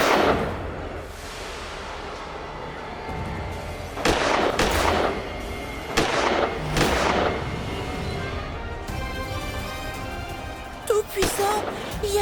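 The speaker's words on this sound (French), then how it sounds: "il y a des coups de feu à l'extérieur" Gunfire outside during an anticipated terrorist attack: several sharp loud cracks and bursts at irregular intervals over a dense background din, with indistinct voices and noise throughout.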